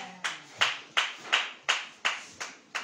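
A church congregation claps for the Holy Spirit in a steady unison rhythm, eight crisp, evenly spaced claps at moderate volume with no talking over them.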